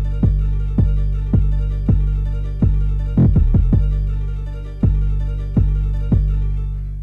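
An 808 kick bass from the Friendly Ghosts drum kit, programmed in FL Studio over a sampled melody: booming kick hits land roughly every half second, with a quick burst of rapid hits midway, decaying under a sustained melodic loop.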